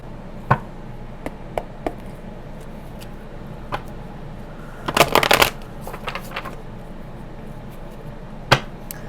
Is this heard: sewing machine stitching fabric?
no